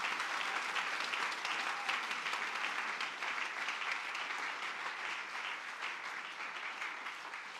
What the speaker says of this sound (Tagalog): Yung malakas na palakpak kay Lord.